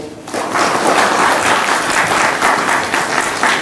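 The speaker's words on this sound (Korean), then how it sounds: "큰 박수로 맞아주십시오" An audience at a book concert gives a speaker a loud, full round of applause, steady dense clapping from start to end with no talk.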